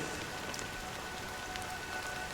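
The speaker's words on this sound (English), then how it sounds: "But it's still raining." Rain falls steadily in the video game Honkai Star Rail, a constant soft hiss of drops on surfaces, even and unbroken, with no one speaking.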